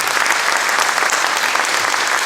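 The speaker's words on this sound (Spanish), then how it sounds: "Dale un aplauso a la palabra de Dios." A church congregation bursts into loud, dense applause, many hands clapping steadily together in a large room, filling the whole moment without voices.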